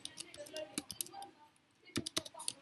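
Someone types on a computer keyboard in quick, uneven bursts of light clicking keystrokes with a short pause in the middle, close and quiet, with speech faintly present.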